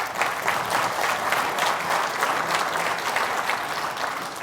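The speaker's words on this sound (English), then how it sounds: "So why don't you give yourselves a big round of applause." A conference crowd gives itself a big round of applause, a full and lively burst of many hands clapping that stays strong throughout and tapers a little at the close.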